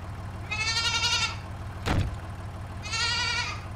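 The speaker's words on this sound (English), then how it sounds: "It's a goat." A goat gives two drawn-out, wavering bleats separated by a short pause and a dull thump, fairly close and clear over a low steady hum.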